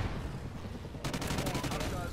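Rapid bursts of explosive-ammo gunfire in a wave-defense video game erupt halfway through, a quick string of sharp cracking shots over a dense, busy game backdrop.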